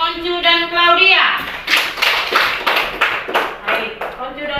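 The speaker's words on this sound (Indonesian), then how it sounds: "kita berikan tepuk tangan untuk Oncu dan Claudia." Third-grade elementary schoolchildren clap for two classmates in a classroom, a burst of loud, close, uneven claps that follows a spoken voice and fades toward the end.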